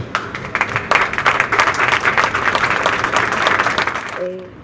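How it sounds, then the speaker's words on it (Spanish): An audience breaks into applause at a political event, a burst of many hands clapping loudly and close for about four seconds before fading, with a brief voice at the very end. "se merece un aplauso"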